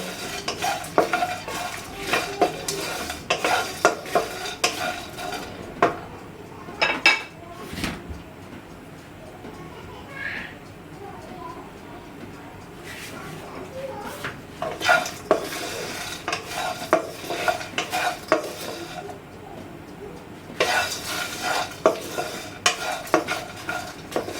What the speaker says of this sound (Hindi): बिल्कुल लाइट से इसको भूनेंगे